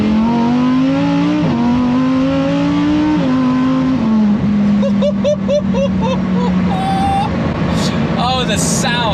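A Lamborghini Huracan STO engine pulls hard from inside the car, rising through revs with gear changes and crackles, loud and close, while someone talks over it.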